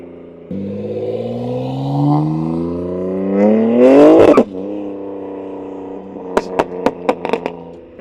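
A BMW G82 M4 engine revs up in a long climbing pull, then drops back to a steady idle followed by a quick series of sharp pops or blips, close and loud.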